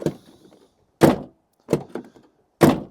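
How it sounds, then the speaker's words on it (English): Van door with an aftermarket alarm sensor fitted being opened and shut: a few heavy thunks and a latch clunk in quick succession, close and loud with silence between. "Door open and closes."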